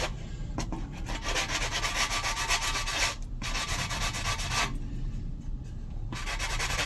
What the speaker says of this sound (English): These foam block sandpapers are really good, but they're really good with flat areas.